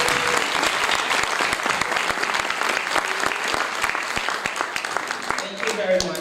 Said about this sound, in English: Please join me once more to applaud the graduating class of 2030